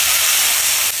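Fried potatoes sautéing in a pan with a little turmeric give off a loud, steady hiss and sizzle that stays even for the whole moment, with no voices.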